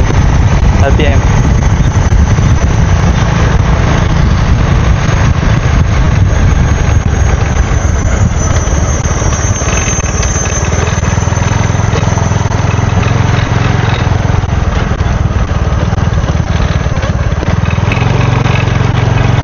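A Kriss 110 motorcycle with an adjustable CDI runs continuously, loud and close, idling with rough rumbling and revving, under occasional talk.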